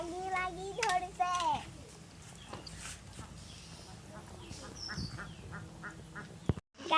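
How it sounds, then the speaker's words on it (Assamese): Ducks quack in a few quick, nasal bursts near the start, then fade under a busy outdoor mix of voices and scattered clatter. "এয়া আমাৰ হাঁহ"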